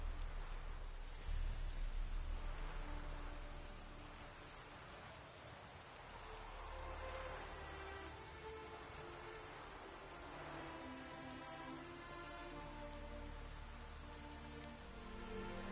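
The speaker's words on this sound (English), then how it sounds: "Looks like rain." Steady rain falls in The Witcher 3: Wild Hunt, a constant hiss of drops layered over low droning game ambience that persists evenly throughout without pause.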